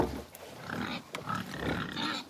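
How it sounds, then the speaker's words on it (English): Excited pigs on a homestead grunting and squealing together while waiting for water and food, a dense, noisy chorus close by with no speech. "Pigs are noisy right now. They're very excited that I'm here."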